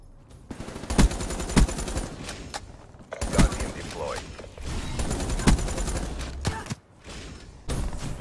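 Gunfire in a hardcore team deathmatch game on PS4, with sharp bursts of automatic fire and single shots scattered across the clip alongside weapon handling clicks and thuds.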